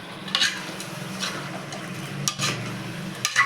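Chicken cooks in a pan with ginger garlic paste, masala and salt while a spoon stirs it. Soft scraping strokes come close by at irregular moments over a low, steady sizzle.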